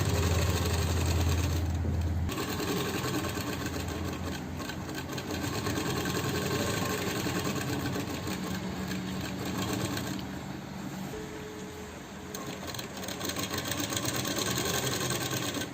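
A sewing machine runs nearly continuously, close and fairly loud, with a fast rattling hum as it stitches a velvet pheran, pausing briefly now and then before starting up again.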